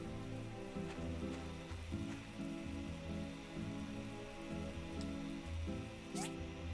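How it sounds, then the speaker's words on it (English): Rain pours steadily in a video game, a soft, constant patter heard fairly faint over low, repeating rhythmic tones, with no voices. "Alright, we got an hour left and it's pouring rain."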